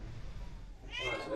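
A cat in a kennel at an airport animal reception gives one short meow near the end, fairly faint against background noise.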